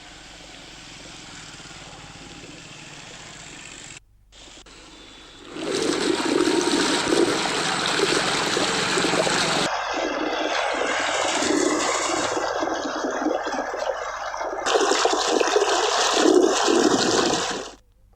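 Water gushes from a leaking supply pipe, a loud continuous rushing roar that swells up after a few seconds and keeps pouring steadily with broadband turbulence before cutting off.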